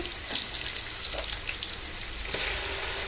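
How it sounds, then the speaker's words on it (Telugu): Onions fry in oil until golden brown for a biryani, a steady faint sizzle with soft stirring scrapes, close and continuous. "ఇది గోల్డెన్ బ్రౌన్ కలర్ వచ్చే వరకు ఫ్రై చేసుకోవాలి."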